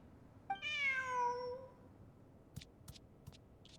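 A cat in Genshin Impact gives one clear, drawn-out meow early on, loud and near, followed by a few faint clicks in otherwise quiet game ambience.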